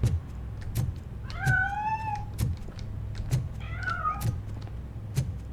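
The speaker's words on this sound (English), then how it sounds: "That cat must be hiding inside." A cat in the RoboCop Rogue City video game meows twice, moderately close, over a low background hum with regular faint clicks.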